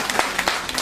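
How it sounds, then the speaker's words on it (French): An audience at a book presentation ceremony applauds, a short burst of dense, overlapping clapping that is fairly loud and close, with some voices mixed in. "je vous demande de l'applaudir au passage"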